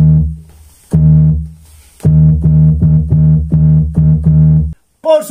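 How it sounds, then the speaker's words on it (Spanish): Electric bass for an instrumental dancehall version of a riddim plays deep, punchy notes, a single long note followed by a run of short rhythmic repeated notes, close and prominent, ending with a brief voice. "el bajo eléctrico."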